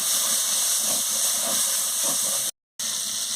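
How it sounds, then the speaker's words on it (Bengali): Spice paste sautés with a little water for a banana flower chorchori, giving a loud, continuous hissing sizzle with faint scraping, briefly cut to silence near the end. "সামান্য একটু জল দিয়ে মশলাটাকে ভালো করে কষিয়ে নিচ্ছি।"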